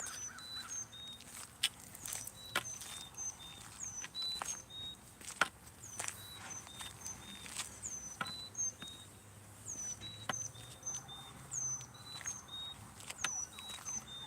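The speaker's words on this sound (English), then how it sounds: "Now what kind of bird is that?" An unfamiliar bird calls during an evening walk, repeating short, high, thin chirps again and again, quiet and somewhat distant over low background hiss with occasional clicks.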